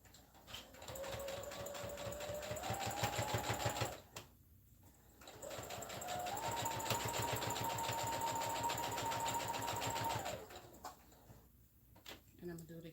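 A sewing machine stitches fabric in two long close bursts of rapid, even needle clatter, with a brief pause between them as the piece is pivoted, then softer handling noises at the end.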